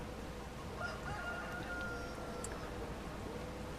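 Chickens and a rooster in Farming Simulator 25, faint and distant crowing calls rising briefly over a soft, steady background hiss.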